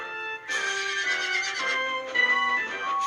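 A horse gives a loud, drawn-out whinny that wavers and shakes, close by, with no talking.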